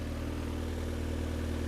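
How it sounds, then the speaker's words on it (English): A Mazda Miata engine with a slight exhaust leak runs at a steady idle, a close, even low rumble held for the whole moment with no voices. "Sounds like a little bit of an exhaust leak"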